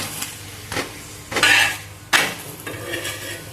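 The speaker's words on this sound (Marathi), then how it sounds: "चांगला खरपूस शेकून घ्यायचा दोन्ही बाजूने उलट पालट करून" Bottle gourd paratha being turned and pressed on an oiled pan, with spatula scrapes and two louder metallic clanks against the pan over a low sizzle.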